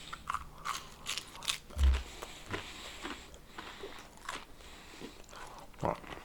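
Someone chews a crunchy coated strong-cheese snack, giving a scattered series of close, crisp crunches and bites with small clicking mouth sounds, moderately quiet and without talk.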